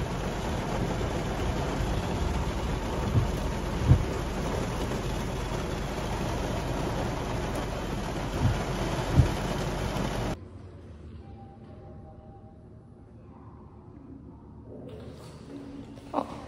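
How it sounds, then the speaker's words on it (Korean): Heavy rain pours in a dense, steady roar for about ten seconds, with a few knocks in the hiss, then cuts to a much quieter muffled indoor background. "비 장난 아니지."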